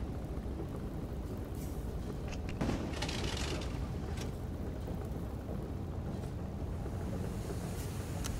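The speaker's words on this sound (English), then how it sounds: "Oh, we have wind now" Steady wind blowing in the side-scrolling vehicle game FAR: Lone Sails, a continuous broad rushing noise with gusty swells and brief rattling bursts partway through, no talking.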